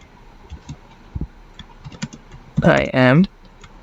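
Soft, scattered key clicks from a computer keyboard during programming, sparse and fairly close, followed by a short spoken phrase near the end.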